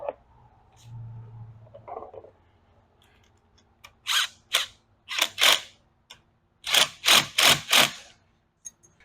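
A long screwdriver snugs down screws while a Loncin Xwolf 700L ATV is assembled: loud, close bursts of ratcheting and scraping in short clusters, the last several coming in quick succession after a faint hum.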